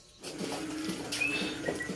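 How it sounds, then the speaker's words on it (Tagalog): Heavy evening rain falls steadily as a broad, even hiss with soft patter, moderately faint, with no talking. "Malakas ang ulan ngayon."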